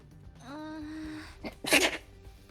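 One sharp, close sneeze follows a drawn-out, rising voiced intake of breath, with a short sniff-like sound just before the burst, during the voiced dialogue of a visual novel game.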